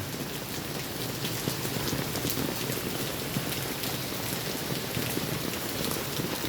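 Heavy rain pours steadily over Jamnagar city, a dense, even hiss of drops striking surfaces close by, with no break or voices throughout.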